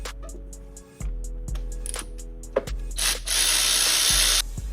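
A hand ratchet on a long extension clicks in short bursts while working a 5/8 spark plug socket on a 2002–2008 Infiniti FX35 engine, each run of crisp pawl ticks separated by pauses, with a brief metallic clatter.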